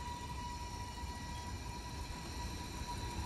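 A Finger Lakes Railway GS2 train rumbles steadily as it arrives in Solvay Yard, a continuous low, moderately distant drone with a faint sustained tone above it and no voices.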